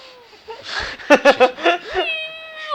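A cat gives a few short, close meows in quick succession, with laughter and voices around it.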